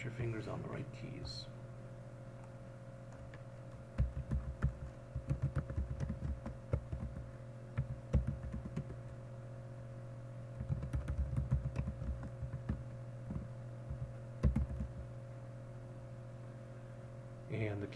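Keystrokes on a computer keyboard come in irregular bursts of clicks over a steady electrical hum, fairly quiet and close, with pauses between runs of typing.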